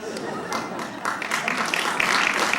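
An audience claps in a dense, steady patter that swells slightly, with voices audible underneath.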